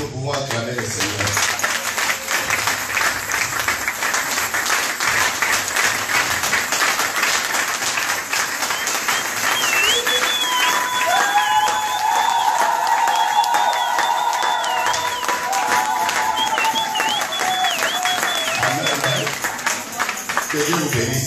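A church congregation claps and cheers continuously to acclaim the Lord, a dense, loud wash of applause with music and voices mixed in throughout.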